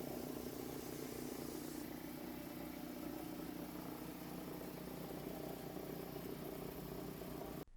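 A small portable air compressor runs steadily as it inflates the tyre of a Volvo V40, a continuous faint buzzing drone that shifts slightly partway through and cuts off abruptly at the end.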